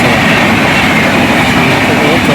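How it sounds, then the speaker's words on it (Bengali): A train passing close by at a railway crossing where the gate is down, a loud, steady rumble and rattle that fills the whole stretch without letting up. "দেখো আমাদের সামনে ট্রেনটা যাচ্ছে"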